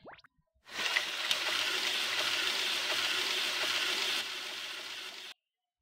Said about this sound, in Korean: 볶은 짜장이랑 야채랑 물이랑 넣고 다진 마늘까지 넣어서 설탕이랑 그래서 볶아요